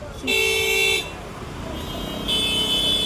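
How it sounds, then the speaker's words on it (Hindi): Busy city traffic near Dadar station, with car horns honking in two long, loud blasts over a steady rumble of engines and road noise. "हम ट्रैफिक में फंसे हुए हैं"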